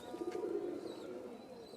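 Pakistani and Rajshahi Giribaj pigeons with yellow eyes coo softly in a low continuous murmur, fairly faint and steady throughout.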